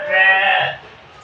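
A single sheep bleats loudly and close in a large shed built for about 500 sheep, one drawn-out cry lasting under a second before fading.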